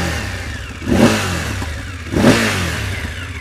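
BMW F850 GS Adventure 2019 motorcycle with an Akrapovič exhaust, its engine running and blipped twice, each rev a swelling burst that settles back toward a steady idle, heard close with no talk.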